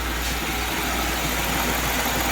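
A car engine idles right after an ignition coil replacement, a steady close mid-pitched hum with an even, unbroken running note.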